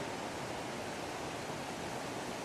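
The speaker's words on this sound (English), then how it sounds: "look at this waterfall coming down the side of their property" A flood-swollen waterfall pours down beside a creek during heavy rains, a dense, even roar of rushing water heard loud and close with no other sounds.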